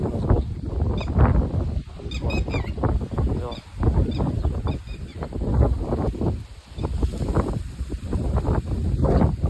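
Strong gusting wind ahead of a rainstorm roars and buffets the microphone in heavy, uneven blasts, with faint honking birds in the distance.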